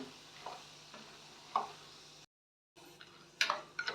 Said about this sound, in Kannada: ಇವಾಗ ಇದನ್ನ ಕೆಂಪು ಫ್ರೈ ಮಾಡ್ಕೊಳ್ಳೋಣ ಉರಿ ಮಾತ್ರ ಮೀಡಿಯಮ್ ಉರಿಲೇ ಇಟ್ಕೊಳ್ಳಿ